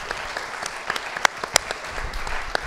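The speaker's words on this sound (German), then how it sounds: "Wirklich Applaus für ihn." Audience applause at a Munich film festival event honoring filmmaker Rosa von Praunheim, steady crowd clapping with scattered louder individual claps throughout, no talking over it.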